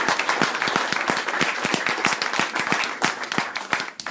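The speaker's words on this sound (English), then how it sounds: "Let's give him a round of applause." A round of applause from a crowd at a campaign stop in a San Francisco diner, loud close hand claps with individual sharp slaps audible throughout.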